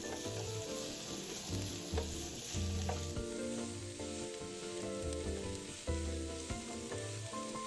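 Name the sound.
diced onion frying in oil in a wok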